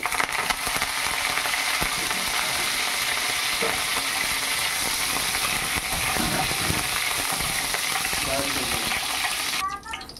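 Crushed garlic cloves, skins on, and curry leaves sizzle steadily in hot oil for a potato stir-fry, a loud, continuous frying hiss that holds for about ten seconds before dropping off at the end.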